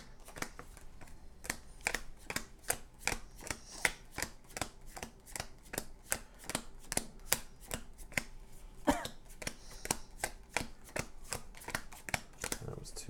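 A deck of cards is riffle-shuffled over and over during a Marvel Champions card game, a long run of quick, crisp flutters and taps at close range, with people talking intermittently.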